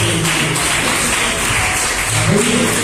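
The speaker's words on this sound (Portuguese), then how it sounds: "E as palmas para Deus" A church congregation claps for God in a loud, continuous wash of applause that fills the space, with a voice faintly audible underneath.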